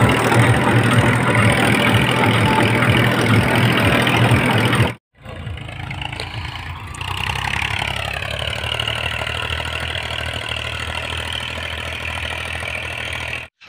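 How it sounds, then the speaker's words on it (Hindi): A tractor engine runs steadily while ploughing a farm field, a loud continuous mid-pitched drone with a brief cutout partway through before the rumble resumes at a slightly lower, shifting pitch. "खेत में जोत निकलवा देते हैं और ट्रैक्टर आ गया"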